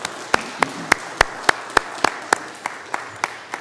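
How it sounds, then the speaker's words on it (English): Steady, evenly spaced claps, about a dozen at a slow measured pace, sound at a museum speaker-series event, moderately close and without talk. "let's give the museum board a big round of applause for all the work they do"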